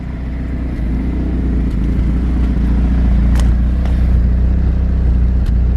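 A modified Saab 9000 engine runs loud and close with a deep, rough rumble, holding a steady throbbing note with a few faint pops and clatters over several seconds.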